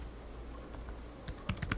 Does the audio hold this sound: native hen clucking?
no